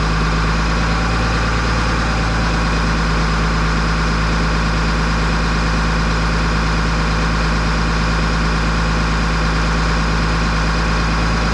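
A truck engine runs steadily at about 1200 RPM to build air-brake pressure, a loud, close, continuous drone with a low hum and no break.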